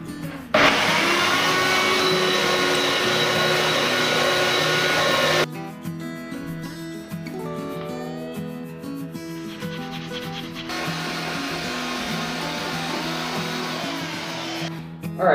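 Electric sander grinding steadily across a wooden gaming table panel, a loud continuous buzzing rub that shifts in pitch partway through, then settles back into a steady drone.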